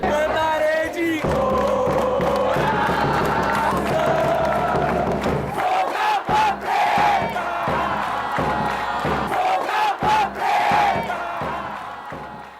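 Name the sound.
Rio Branco football fans cheering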